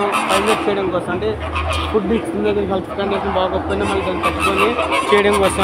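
Arabian cranes in Dubai give repeated honking, goose-like calls in irregular bursts, close by, with a person talking over them throughout.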